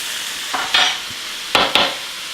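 Food is stirred around in a pan in a few quick scraping strokes, short bursts over a low sizzle, close and fairly loud with no talk.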